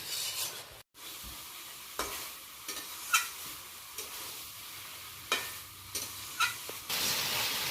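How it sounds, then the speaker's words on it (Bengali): Prawns and snake gourd with grated coconut sauté in a pan for a curry: a soft, continuous sizzle broken by repeated scraping stirs of a spatula, with no talking. "নারকেলটা দিয়ে আরও 2-3 মিনিট ধরে ভালো করে কষিয়ে নিলাম।"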